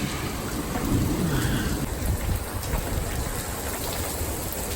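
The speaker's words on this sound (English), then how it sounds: "It has not stopped raining." Heavy rain pours steadily during a lightning storm, a dense hiss broken by a low rumble of thunder early on, close and continuous, with no voices.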